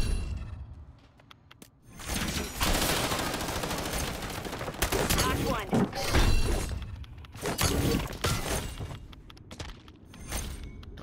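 Sustained heavy gunfire in a shooter video game, with dense automatic bursts and shattering impacts that rise after a quiet start and keep going loud and close, with no one talking.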